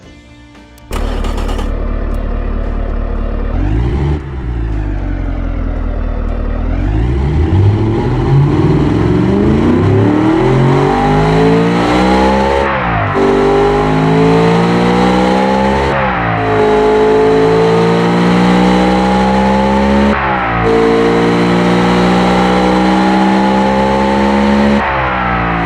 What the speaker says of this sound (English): Let's hear the engine now.